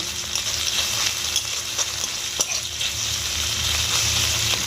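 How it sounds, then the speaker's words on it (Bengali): Onions fry in mustard oil in a wok, a close, steady sizzle and crackle with occasional scraping stirs throughout. "পেঁয়াজটা ভেজে নেব"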